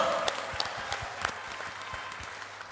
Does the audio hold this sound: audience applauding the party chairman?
yes